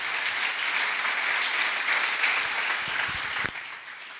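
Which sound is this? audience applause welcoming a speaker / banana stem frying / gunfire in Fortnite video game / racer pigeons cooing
audience applause welcoming a speaker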